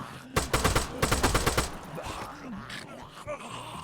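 Gunfire from shooting zombies in the Arma 3 video game: a quick string of about nine sharp shots, followed by groaning and creaking sounds at moderate level.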